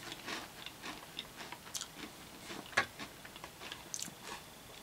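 Someone chews a cookie-shaped bacon and sharp cheddar snack up close, giving quiet, irregular crunchy bites and munching with no talking.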